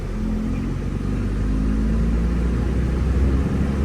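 Diesel engine of a Hino JO8C 210 hp truck running steadily during a tight turnaround, a loud, constant low rumble close by.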